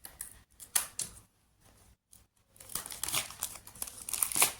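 Polythene wrap being pulled off a cardboard box holding a budget wireless microphone: loud, close crinkling and rustling in bursts, a brief quiet gap, then sustained crackling plastic.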